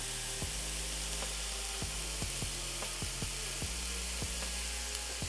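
Ground beef sautéing in a pan: a steady, fairly quiet sizzle broken by repeated sharp scraping clicks at irregular intervals, with no voices.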